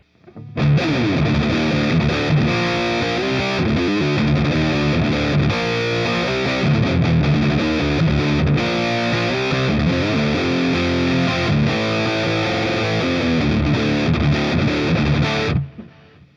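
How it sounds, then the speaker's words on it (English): An electric guitar runs through the Waves GTR3 amp simulator with distortion driven high, playing a loud, continuous riff of saturated chords and notes for about fifteen seconds before stopping abruptly. "So, let's take our distortion and let's drive this up, see where we're at."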